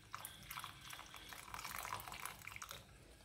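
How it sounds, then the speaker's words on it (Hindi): Water trickles and splashes in small pours into flour while batter is being mixed for a sweet cheela, a steady close liquid sound without talk. "थोड़ा थोड़ा पानी डालते जाएंगे और इसको मिक्स कर लेंगे।"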